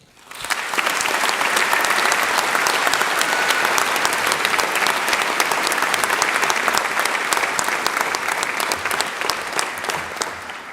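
Sustained audience applause at a university graduation ceremony for the faculty of Business, Law and Social Sciences, a dense steady clapping crowd lasting throughout without fading.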